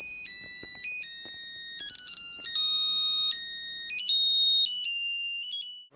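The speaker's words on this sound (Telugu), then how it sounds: "సార్, డార్లింగ్ గారు ఫోన్." A mobile phone ringtone plays loud and clear in a comedy film scene, a bright electronic melody of stepped tones repeating steadily and alone, with almost nothing else beneath it.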